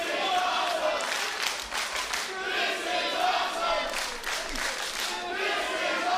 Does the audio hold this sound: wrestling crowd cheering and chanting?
yes